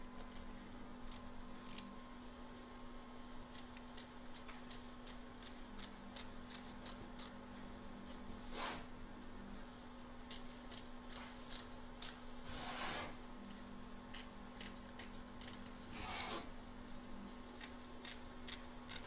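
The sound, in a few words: scissors trimming excess fabric from embroidery hoop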